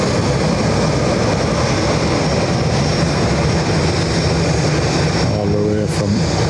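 Emirates airliner arriving at Dublin Airport, a constant loud engine rumble with a voice speaking over it, and a brief tonal whine near the end.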